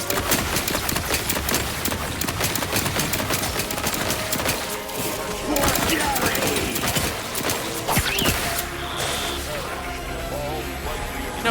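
Rapid turret gunfire in The Outer Worlds 2, a dense, fast clatter of mechanical shots running steadily throughout, loud and close with game effects layered on top.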